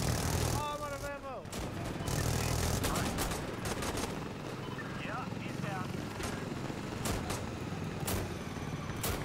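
Gunfire in the shooter game Insurgency Sandstorm, a steady stream of sharp shots, some in quick bursts, under a dense roar of battle noise, with voices speaking throughout.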